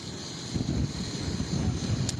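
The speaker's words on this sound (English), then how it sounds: "And Katie, it is rainy, it is windy" Strong wind during a nor'easter on the Outer Banks coast at Buxton, a steady roaring rumble buffeting the microphone with gusty surges, alone without talk.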